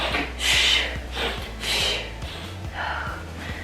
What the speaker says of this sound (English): deep breaths in and out